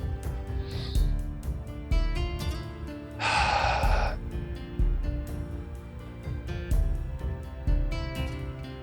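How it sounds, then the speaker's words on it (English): One slow, audible deep breath rises midway over a soft, steady musical background with gentle repeating tones. "take a deep breath, 2 or 3"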